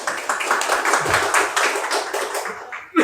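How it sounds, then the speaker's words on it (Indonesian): Audience clapping at an Indonesian national student discussion event, a scattered round of claps filling the room at moderate loudness, thinning out near the end. "Tepuk tangan dong."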